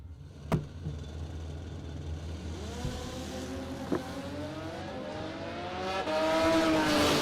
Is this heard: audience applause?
no